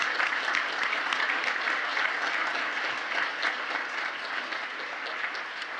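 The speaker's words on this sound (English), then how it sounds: "And we'll clap." An audience at a FERC commission open meeting gives sustained applause, a dense, even wash of clapping that holds steady throughout and fades slightly toward the end, with no talk over it.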